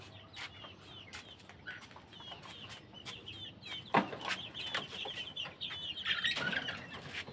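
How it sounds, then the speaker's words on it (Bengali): Free-roaming backyard chickens cluck in irregular, overlapping bursts near and far, with a few louder squawks and brief wing flaps in an outdoor garden setting. "আজকে সকাল সকাল করে মুরগিগুলি ছেড়ে দিলাম"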